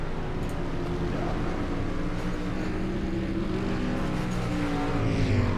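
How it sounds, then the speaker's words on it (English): Street stock cars race on the Knoxville Raceway dirt oval in the iRacing simulator, their engines a loud, steady, continuous drone as the cars scrape along the wall. "You could hear these cars just scraping the wall"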